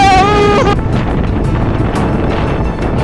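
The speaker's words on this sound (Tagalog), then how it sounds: "Lakas ng hangin!" Strong wind roaring across a microphone on a mountainside during a typhoon, a loud continuous rumble with a brief whistling tone at the start and no voices.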